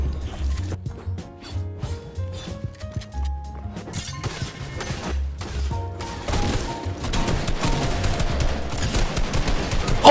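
Rapid gunfire from a Fortnite match rings out in dense, overlapping bursts over the game's music and effects. The shots build toward a loud, busy climax.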